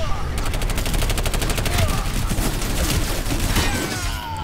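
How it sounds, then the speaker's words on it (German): Rapid gunfire in the video game Planetside 2, a dense, continuous volley of automatic shots layered over the clamor of battle. The firing stays loud and steady throughout without letting up. "Schießt da wer?"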